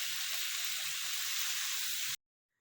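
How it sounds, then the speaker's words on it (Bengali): Boiled eggs frying in a pan, a steady bright sizzle of hot oil that stays even and close for about two seconds before cutting off abruptly into silence. "এই দেখো, সেদ্ধ ডিমগুলো ভেজে নিচ্ছি এবার।"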